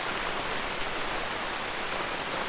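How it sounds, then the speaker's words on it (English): Heavy rain pours down steadily, a dense, unbroken broadband hiss like a downpour close by, even in loudness throughout, with no voices. "And more rain. More rain, more rain."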